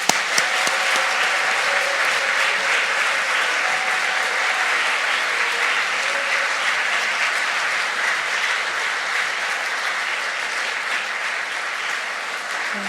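A church congregation at a Sunday evening service claps loudly and steadily to welcome a guest pastor, a dense continuous wash of applause filling the room with little talk.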